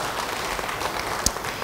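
A church congregation applauds during a sermon, producing brief, fairly loud dense clapping that runs steadily and ends with a sharp louder clap near the end.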